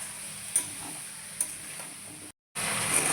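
Potatoes frying in a pan for cauliflower-potato posto give a steady soft sizzle with a few light clicks of stirring, alone and close, broken by a brief silent gap.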